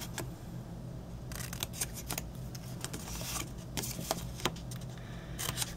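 Scissors snip the corners off a paper gift-wallet project, giving a few quick, crisp close-up cuts and paper rustles over a low steady background hum.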